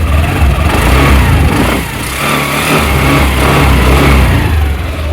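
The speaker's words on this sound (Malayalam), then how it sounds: "നമുക്കൊന്ന് എൻജിൻ റവ് ചെയ്താലോ." A Honda Dio 110 scooter engine, 2025 model, revs loudly and close, a continuous buzzing drone that dips briefly in the middle before rising again.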